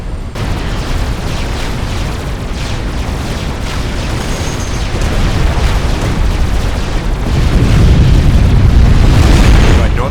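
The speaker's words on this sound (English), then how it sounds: "The nuke will automatically fire." A nuclear missile launches and detonates in the strategy game Supreme Commander: Forged Alliance, a loud, continuous roaring rumble that swells and deepens toward the end as the blast grows.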